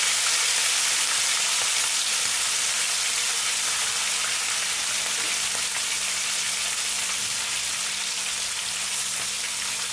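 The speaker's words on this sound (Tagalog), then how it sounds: "Napaka-crispy ng ating pritong mackerel." Mackerel fries in oil with a loud, dense, steady sizzle that crackles evenly from start to finish. It is close up, with no voices.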